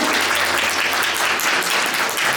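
Wedding guests applaud the bride and groom as they bow, a loud, continuous patter of many hands filling the hall without a break.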